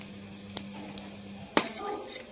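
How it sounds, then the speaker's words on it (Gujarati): Half a spoon of cumin seeds goes into hot oil for palak paneer, bringing a faint sizzle with a few sharp spoon clinks against the pan, close but quiet. "તેલ ગરમ થઈ જાય ત્યારબાદ છે એમાં આપણે અડધી ચમચી જેટલે જીરું નાખીશું"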